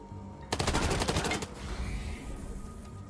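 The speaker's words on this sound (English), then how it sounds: "you're gonna take a shot at the one hiding" Gunfire in the video game Wasteland 3: a rapid burst of loud, close shots lasting about a second, then a fading rumble and quieter game ambience, with no talking.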